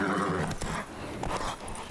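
Roach the horse galloping in The Witcher 3, hooves thudding in a quick, close clip-clop rhythm over a dense, loud game background for a couple of seconds.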